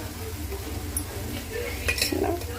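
Chili powder being stirred into a mutton leg curry in a pan, with soft scraping stir strokes over a steady low simmering sizzle and a brief clink of the utensil near the end.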